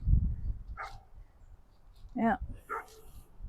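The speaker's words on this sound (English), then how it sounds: "And the dog is barking." Dog barking at a distance on open rural acreage near a pond, two or three short barks separated by quiet outdoor background, with a person briefly speaking nearby.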